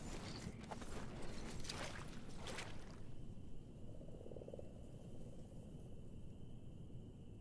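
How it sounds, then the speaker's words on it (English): Poison frogs croak in the dark fantasy video game Mortal Shell, a steady low croaking chorus running throughout under other game ambience, with a thin sustained tone entering midway. "Now those poison frogs might kind of hurt me. Now they're around, I can hear them."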